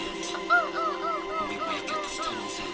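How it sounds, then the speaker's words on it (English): Music from an EP with a repeating series of short, rising-and-falling honk-like calls resembling a bird, set over a sustained tonal backing. "It kind of sounds like a bird."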